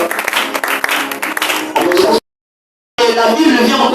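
Church congregation acclaiming God with loud applause and cheering voices, dense close clapping that cuts out abruptly for under a second before resuming just as strongly.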